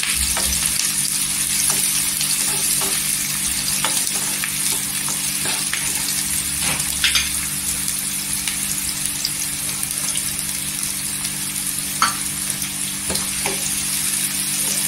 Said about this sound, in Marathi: 2 ते 3 कांदा टाकायचा, त्याच्यावर कढीपत्ता टाकायचा आणि तेलावर परतून घ्यायचं।